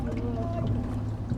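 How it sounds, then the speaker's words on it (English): A low, steady Coast Guard boat engine drones close by during Cornish gig rowing, its rumble continuous beneath faint voices. "Hear the engine of a Coast Guard boat."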